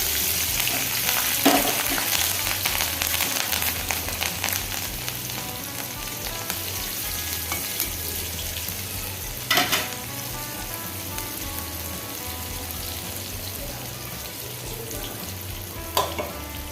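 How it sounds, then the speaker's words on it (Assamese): Fiddlehead fern sizzles in leftover fish-frying oil with crushed garlic and green chilli, a steady close crackle broken by a few sharp clacks of stirring. "আৰু এইফালে মাছ ভজা তেলতে ঢেকীয়া ভাজিবলৈ দিছোঁ"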